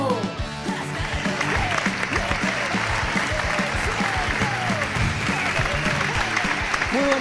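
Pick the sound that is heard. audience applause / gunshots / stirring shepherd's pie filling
audience applause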